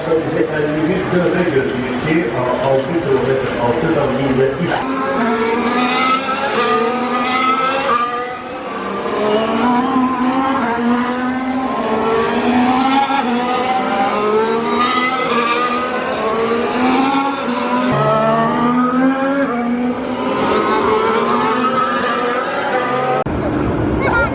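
A race car runs on a track in Azerbaijan, its engine loud and close, rising and falling steadily through gear changes for the whole stretch.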